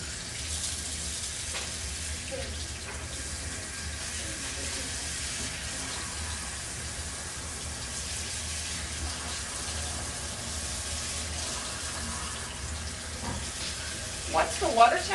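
Water runs from a salon shampoo sink tap as a steady, soft hiss of flowing water, with faint splashes and brief handling noises near the end.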